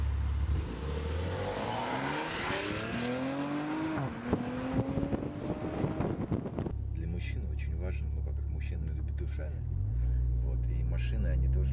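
A Maserati Levante engine in sport mode revs and climbs in pitch, then settles into a deep, steady rumble, with wind noise and some talking over it.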